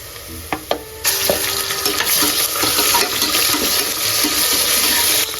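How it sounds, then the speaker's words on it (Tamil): Ginger garlic paste drops into hot oil in a pot for chicken biryani and breaks into a loud, steady, close sizzle after a few light clinks, and keeps hissing without pause. "எண்ணெய் காஞ்சதுக்கு அப்புறம் இந்த மாதிரி இஞ்சி பூண்டு பேஸ்ட் வந்து நல்லா போட்டீங்கன்னா"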